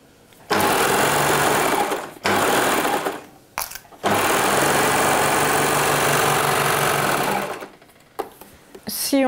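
Sewing machine stitching a jersey dress, running in long loud continuous bursts with short pauses between seams, close and steady.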